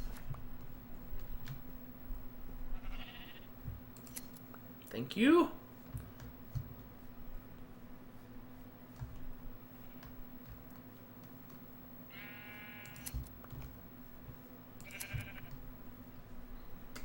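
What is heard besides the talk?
black sheep bleating while sheared for wool in Minecraft video game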